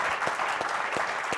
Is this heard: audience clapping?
yes